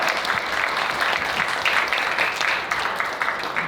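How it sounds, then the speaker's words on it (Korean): Wedding guests at a hotel ceremony applaud the newly married bride and groom, a dense, loud, continuous burst of many hands clapping together. "우리 크게 축복의 박수를 부탁드립니다"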